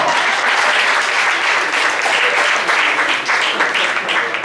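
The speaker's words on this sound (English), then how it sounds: "Give them all a big round of applause." Dense, sustained applause from a large audience at a university homecoming event, loud and continuous throughout with no pauses.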